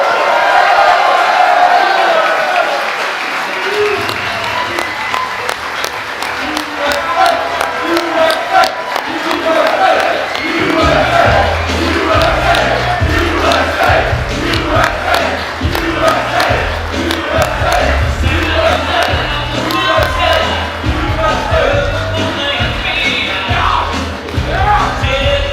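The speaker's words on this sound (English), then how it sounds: "Let's all give a big round of applause in welcoming and greeting our Vice President of the United States, JD Vance." A large rally crowd in Oakland County, Michigan cheers, whoops and applauds to welcome Vice President JD Vance: loud, continuous roaring and yelling, with a thumping low beat joining partway through.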